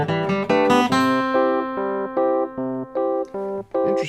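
Bluegrass guitar picks a run of pentatonic lead-in notes landing on C, crisp plucked single notes in a steady rhythm, close and bright, with no talking.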